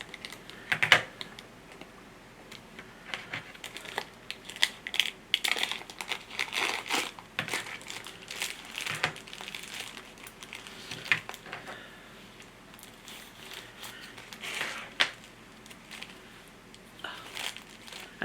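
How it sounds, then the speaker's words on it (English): Plastic packaging on new studio storage products being cut and crinkled close up, a quiet run of small crackles, snips and rustles with uneven pauses and no talk. "I'm going to cut the plastic on this one."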